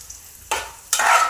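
Cashew nuts fry in a hot pan, two bursts of sizzling and scraping as they are stirred, close and lively.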